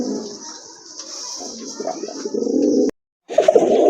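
Pigeons kept for sale coo close by, with pale sky-blue round pigeons among them. The low cooing grows steadily louder, breaks off in a short silence, then resumes, while a steady high-pitched hiss runs beneath it.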